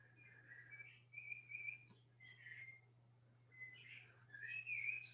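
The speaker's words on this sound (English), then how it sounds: "I hear birds." Faint outdoor birds whistling and chirping in short phrases, distant and quiet over a low steady hum.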